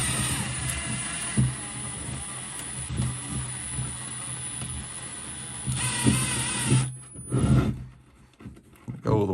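A drill winds a recoil spring into its housing, a close, whirring mechanical run with scraping and ratcheting texture that surges and eases in a few bursts before cutting off into brief clunks and handling noise.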